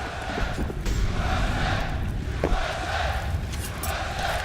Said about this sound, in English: The crowd's back as well.